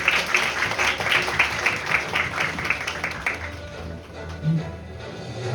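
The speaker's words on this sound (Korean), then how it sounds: "회장님 나오실 때 앞으로 오실 때 박수 부탁드리겠습니다." Audience applause at a Korean student Model UN closing ceremony, a fairly close run of rhythmic, steady clapping that thins out after a few seconds. Scattered murmuring and a brief voice follow.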